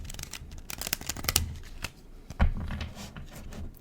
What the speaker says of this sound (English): I'm going to draw 3 cards